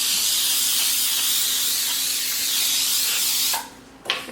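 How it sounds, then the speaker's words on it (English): Cooking spray hisses onto a baking sheet in one long, steady spray of about three and a half seconds, close and fairly loud, followed by a quieter pause and a short final burst. "We're going to spray our baking sheet."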